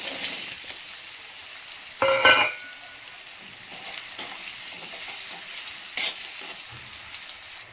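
Potato chutney ingredients drop into hot oil and fry, giving a sharp burst of sizzle followed by a soft continuous crackle, with a brief stir later, close by and without speech.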